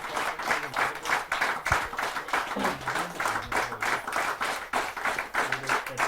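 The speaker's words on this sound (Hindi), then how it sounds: "आइए उनका जोरदार तालियों से हम स्वागत करते हैं।" Rhythmic, fairly loud audience clapping at a Hindi comic poetry gathering welcoming a poet to the stage, with many hands beating in quick, roughly unified pulses and a faint low tone underneath.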